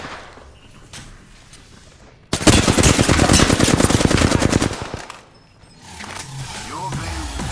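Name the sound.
gunfire in a video game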